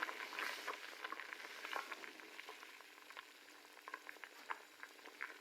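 Half a cup of ghee sizzles and crackles steadily in a pot while black chana masala gravy is being cooked, with dense popping and spattering throughout and no voices.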